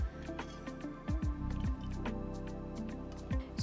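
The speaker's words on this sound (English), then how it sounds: "We'll strain this dal now. We'll remove the water." Soft, cooked dal is strained, with water trickling and dripping through in wet squishy gurgles and splashes, close and fairly quiet.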